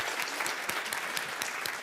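A family claps in a TV quiz show studio, giving dense, steady applause throughout at an even level.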